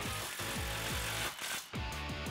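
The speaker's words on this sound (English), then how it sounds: "now we can snug up that clamp" Rapid mechanical impact chatter, like a power impact wrench, snugs up an exhaust clamp on a 2009-2021 Toyota Tundra 5.7L Flowmaster FlowFX dual exhaust; loud, close bursts of repeated hammering with brief pauses.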